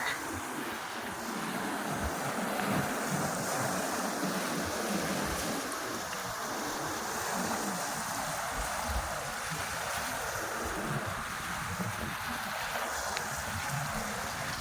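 Steady wind roars over the rush of waves and water, a constant broadband wash at sea with no pauses.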